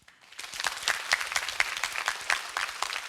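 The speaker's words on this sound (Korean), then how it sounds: "다시 한번 뜨거운 박수 부탁을 드리겠습니다." An audience claps at the close of a Korean education lecture in a concert-style hall, a dense crowd of hands with sharp individual claps standing out, starting quickly and holding steady for several seconds.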